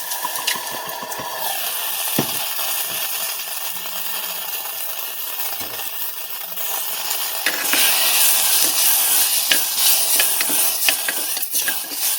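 Khichuri cooking in a little oil, with a steady bright sizzle and frequent scraping, clinking stirs against the pot, louder and busier in the second half.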